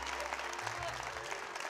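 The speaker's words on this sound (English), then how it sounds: "who deserve a marvelous round of your applause" A theatre audience claps in a dense, continuous round of applause, fairly distant and even, with crowd murmur mixed in.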